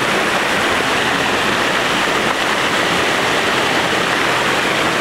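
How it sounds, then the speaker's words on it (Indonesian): Small river stream flowing beside a campsite, a steady loud rushing wash of water, close and continuous with no talk. "Ada aliran anak sungai dekat tepi campsite sampai dekat bawah sana."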